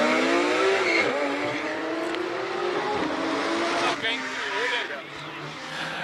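A Porsche 911 GT3 RS race car launches from the start line at a hill-climb event in Cape Town. Loud, rising engine revs and tire squeal play under an announcer's continuous talk.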